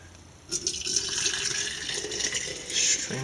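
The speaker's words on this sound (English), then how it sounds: "Pour the water into your container." Boiling water poured from a pot into a container, a steady splashing fill that starts abruptly and runs continuously to the end, close and moderately loud.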